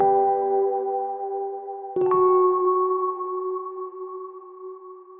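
Crystalline reverb plugin on its High setting: sustained bell-like tones ring out with a smooth, clear tail, then a sharp struck hit blooms into a long shimmering decay, alone with no talk.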